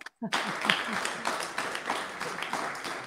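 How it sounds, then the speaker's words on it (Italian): Audience applause at a museum gathering, a steady broadband patter of many hands starting abruptly after a brief silence, with a voice calling out briefly early on amid the clapping. "Vediamo se vi fanno un applauso nel mentre che li vedete"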